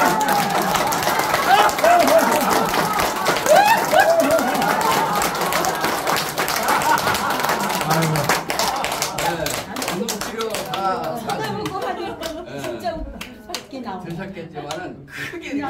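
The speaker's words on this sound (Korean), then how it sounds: "웃으면서 박수 치는 거." Audience at a Korean instructors' association year-end gathering claps in a dense, steady patter while laughing, voices and chuckles mixed through the clapping, thinning out toward the end.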